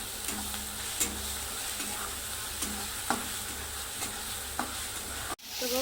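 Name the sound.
ground chilli paste frying in a pan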